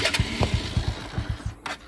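A motorcycle with a worn-out, smoking engine block runs with a rough, rapid, steady chugging pulse, close by, with a few brief higher-pitched bursts over it.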